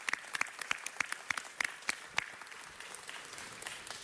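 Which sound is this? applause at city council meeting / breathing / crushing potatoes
applause at city council meeting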